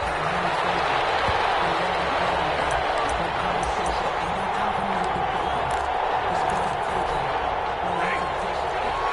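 A packed stadium crowd in a football video game, Detroit Lions versus Minnesota Vikings, roars and cheers in a steady, dense wash for the whole stretch, with commentary voices running faintly underneath.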